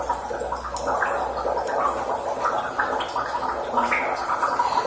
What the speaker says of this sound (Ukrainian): З пагорба побіг веселий струмочок